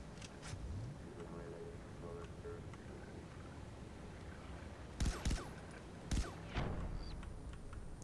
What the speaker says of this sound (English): What the heck is shooting me?